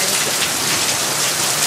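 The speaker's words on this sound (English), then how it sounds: "the rain started 5 minutes ago, and it started with just a few drops" Heavy monsoon rain pours down steadily in Chiang Mai, Thailand, during the rainy season. It is a dense, constant roar of drops hitting surfaces close by, with no voices.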